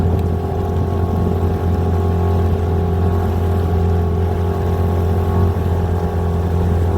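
A Hangkai 18 outboard motor drives a boat at a steady pace, a loud continuous droning hum with a constant pitch and churning water noise, close and unbroken for the whole stretch.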